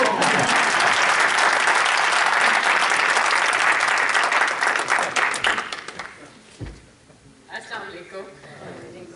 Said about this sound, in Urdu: ان کے لیے تالیاں ضرور بجائی جائیں